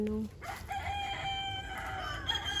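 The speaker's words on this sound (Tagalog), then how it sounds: "may manok din dyan na may dalawang sisiw" A rooster crows in the distance amid a busy, noisy farmyard background, with faint hen clucks mixed in.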